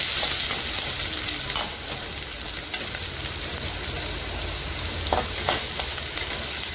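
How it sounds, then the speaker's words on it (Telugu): Green chillies and onion frying in a pan for soya chunk pakodi, a steady close sizzle with occasional stirring scrapes and spoon taps throughout, no talking. "ఒక 4 పచ్చిమిర్చి తీసుకున్నాను, 1 ఆనియన్ తీసుకున్నాను. వీటిని బాగా ఫ్రై చేసుకోవాలి."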